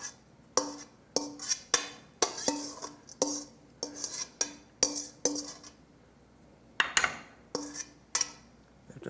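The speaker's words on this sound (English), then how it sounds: "stainless steel is the best to mix things in because it makes enough noise to know you're getting something done" A spoon scrapes and clanks inside a stainless steel mixing bowl while scooping out boiled chicken gizzards, about a dozen sharp metallic strikes and scrapes in an uneven rhythm, close and fairly loud with quiet gaps between.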